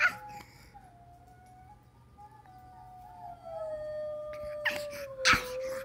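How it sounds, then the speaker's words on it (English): Wolves howling in a played recording, long sustained wavering howls gliding slowly downward, with a second louder voice joining near the end, moderately close and alone. "You want me to stop the wolves howling?"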